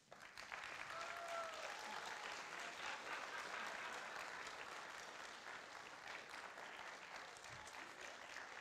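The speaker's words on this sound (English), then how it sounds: "So I'd like all of you to give a huge applause to these teams" Audience applause for teams at a LARP results ceremony at the Czequestria 2019 convention: a sustained crowd of clapping rising quickly and holding steady, fairly quiet and distant, with faint cheering or voices mixed in.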